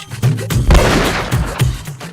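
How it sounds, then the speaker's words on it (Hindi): Loud gunfire in a comedy sketch: a booming shot with a long, rolling echo, close and heavy, set among several thumping impacts. "बड़े जोर की गोली चली है यार जी"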